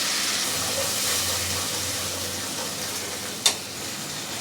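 Spices and turmeric paste sizzling in hot oil for a Bengali dish, a steady close hiss of frying with a sharp crackle near the end.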